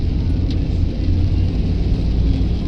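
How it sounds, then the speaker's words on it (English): Steady low rumble of a truck cab on the move through rain, a constant broadband road and engine drone with a faint hiss of wet spray, continuous and close throughout. "Forgive the ambient noise. It is raining. I am in the truck I'm driving."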